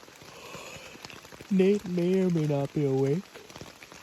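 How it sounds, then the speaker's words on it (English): Rain falls steadily on a chilly, windy morning at a canoe campsite in the Boundary Waters during a bear hunt, a soft patter running under a person speaking quietly nearby. "It's rainy."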